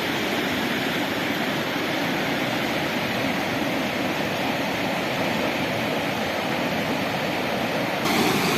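A mountain river in the Carpathians rushes over stones, a steady dense broadband roar of flowing water that stays loud and close throughout with no talk.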